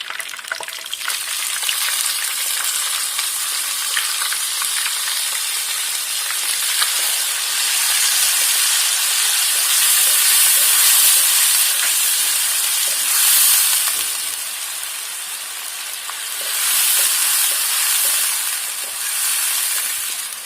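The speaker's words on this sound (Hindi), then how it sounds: "प्याज को हमने ब्राउन नहीं करना, थोड़ा सा सौते करना है ऑयल के अंदर" Onions sautéing in hot oil for chicken white karahi, a loud continuous sizzle and steamy hiss that swells and eases over about twenty seconds, close by, with no voices.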